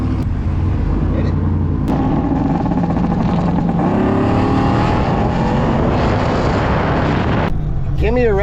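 A custom-built boosted car with a racing-shop engine accelerates hard, a loud, close roar climbing steadily in pitch for several seconds before cutting off, with voices briefly audible at the end.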